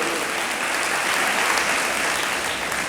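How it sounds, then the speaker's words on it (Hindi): Audience applause at a Jain ceremony for the changing of the pichhika (monk's whisk), steady dense clapping from many hands filling the whole stretch with no voices on top. "आप भी अच्छे से ताली बजाना उनके लिए।"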